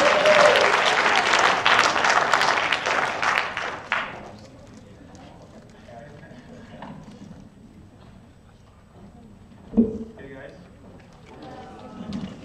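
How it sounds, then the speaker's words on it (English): A conference audience claps loudly for about four seconds, then the applause dies away into a quiet room with occasional small knocks and faint voices. "but you can actually give them a real round of applause"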